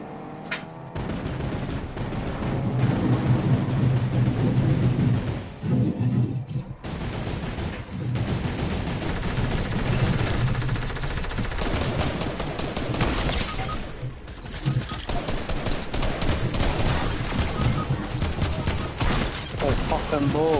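Dense rapid gunfire from a PS4 shooter game, with bursts of automatic fire and a sniper in play, loud and continuous across the clip with a couple of brief pauses and a voice talking over it.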